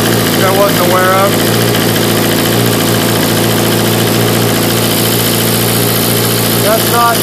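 A Suzuki GSX-R 1000 motorcycle engine with a major exhaust leak idles with a steady, rough mechanical rumble and continuous vibration, close by; faint speech is just audible underneath.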